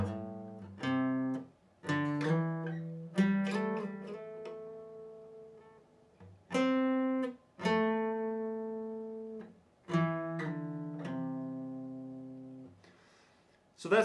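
Guitar solo phrase played slowly, clean single notes and bends picked one at a time with gaps between, quiet and close, no talking over it.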